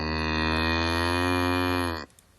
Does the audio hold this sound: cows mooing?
yes